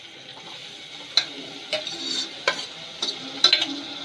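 A spoon scrapes and stirs turmeric into ridge gourd and snake gourd cooking in a frying pan, in several quick, close strokes over a soft continuous sizzle.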